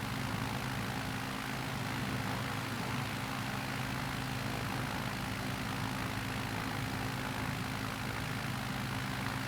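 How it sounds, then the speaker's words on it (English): A bush plane in Microsoft Flight Simulator 2020 taxis uphill, its propeller engine holding a steady, continuous drone with a low hum throughout, no talk over it. "We'll go ahead and taxi up here to the top of the hill."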